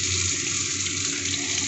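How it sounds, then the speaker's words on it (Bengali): Spice stirred into water pours into a cooking pan holding potatoes, onion, green chilli and tomato, a dense continuous rushing hiss of liquid hitting hot oil, close and unbroken. "এখানে জলে গুলে আমি মশলাটা দিয়ে দিচ্ছি।"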